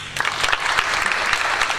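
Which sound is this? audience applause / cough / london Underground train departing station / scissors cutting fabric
audience applause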